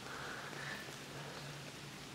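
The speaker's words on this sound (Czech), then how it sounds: "Pořád nám prší už čtvrtý den." Steady rain falls at night on a lake during a carp fishing trip, a continuous dense hiss of drops with no pauses and no voices.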